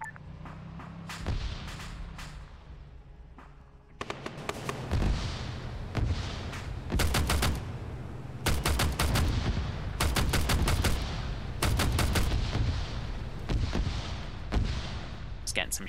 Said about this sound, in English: Getting some shots in there.